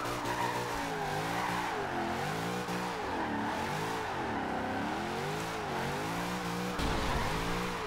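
A Toyota AE86 drifts in Forza Horizon 2, its engine note rising and falling continuously as the tires squeal and skid through the slide, loud and steady with no talk over it.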